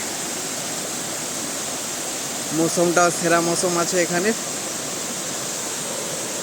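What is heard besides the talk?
waterfall at Ayodhya hill, Purulia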